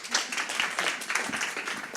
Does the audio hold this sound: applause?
yes